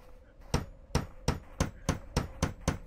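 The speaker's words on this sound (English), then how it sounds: "So if I hit him with a hammer, what will happen?" A hammer strikes a player in the Gorilla Tag game: about eight sharp, loud thuds land in a steady, evenly spaced rhythm, with no talking over them.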